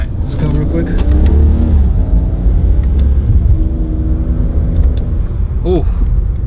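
A BMW E90 fitted with retrofitted paddle shifters drives and accelerates, its steady loud engine rumble running throughout with a brief rising rev near the end, while people talk over it.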